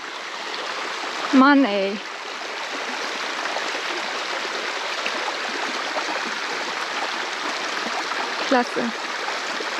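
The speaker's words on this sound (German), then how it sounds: "Das ist ein fetter Fluss." A wide jungle river flows with a steady broadband rush throughout, while people talk briefly over it near the start and again near the end.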